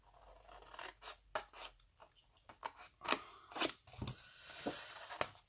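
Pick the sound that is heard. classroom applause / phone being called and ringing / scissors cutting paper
scissors cutting paper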